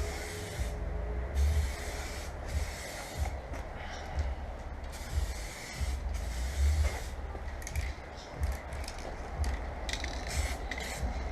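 Spray paint goes on as a second coat over a 1976 Ford XB Fairmont hardtop, a steady close hiss running throughout with small shifts in intensity.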